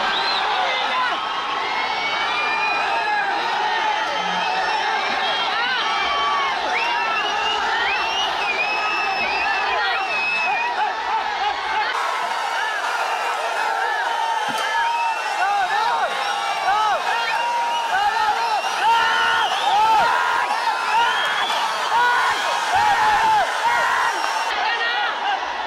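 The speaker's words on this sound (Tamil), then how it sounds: "ஒரு அரங்கம் நிறைந்த கைத்தட்டல் நமது குழந்தைகளுக்கும் வெற்றி தலைவருக்கும்" Packed hall audience at the Vijay Education Award ceremony cheering, whooping and clapping loudly and continuously, a roaring crowd din with shouts rising over it throughout.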